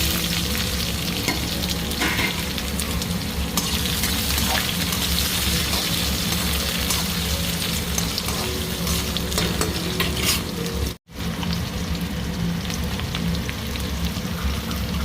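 Garlic, onion and green chilli frying in a pan with black cumin seeds, giving a dense, continuous close sizzle with rapid crackling and stirring scrapes that cuts out abruptly for an instant before resuming.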